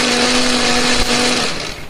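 Electric blender whirring steadily as it grinds a spice paste of candlenut, turmeric, shallot, garlic and coriander with a little water or oil, loud and close, easing slightly toward the end.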